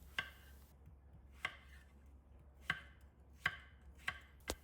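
Six sharp knife strikes on a cutting board, cutting potatoes into small cubes at an uneven, unhurried pace, close and clear over a faint steady hum.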